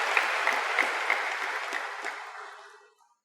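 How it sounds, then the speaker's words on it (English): Audience applause during a stage conversation event, a steady wash of clapping from a crowd that holds evenly and then fades out completely near the end. "So, all those who clapped"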